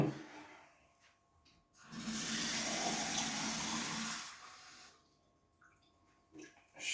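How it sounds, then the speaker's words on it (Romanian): Water pours into a glass jar for about two seconds, a steady close splashing fill between quieter stretches with faint handling noise. "O să le umplem pe rând cu apă, aceeași cantitate de apă în amândouă borcanele."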